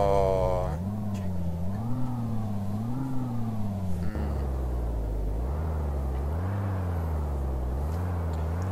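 Peterbilt 387 truck engine in Euro Truck Simulator 2, a low droning engine rising and falling in pitch through repeated gear changes, steady and prominent, with a brief click midway and a voice speaking at the start.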